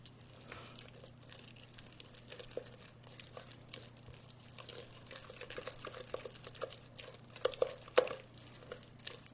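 A spoon works oat bar batter around a mixing bowl, giving soft wet stirring and light clicks that repeat in an uneven rhythm over a low steady hum, with no speech.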